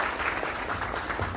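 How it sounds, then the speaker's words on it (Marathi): A hall audience at a women's gathering applauding steadily, with a dense, even patter of clapping that holds throughout. "त्यांच्यासाठी एकदा जोरदार टाळ्या"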